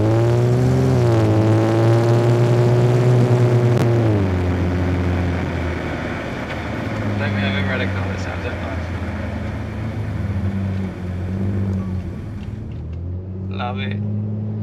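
A BMW E39 car engine revs up loudly at close range, its deep harmonic drone rising and falling before settling into a steady idle hum, with brief clicks near the end.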